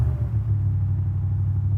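A Ford Raptor R with an AWE Tuning exhaust idles on a cold start, giving a steady, loud, deep low rumble that holds evenly throughout with no talking.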